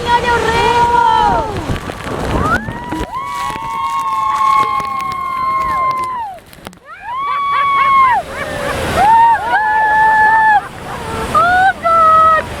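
Niagara Falls roars as a broad, constant rush of falling water, loud and close, nearly buried under excited shouting and exclaiming voices throughout.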